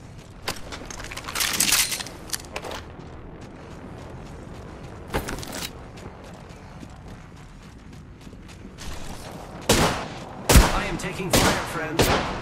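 Gunfire in a video game crackles in sharp, loud bursts and short volleys, scattered irregularly with quieter mechanical clatter between them and heavier shots clustering near the end.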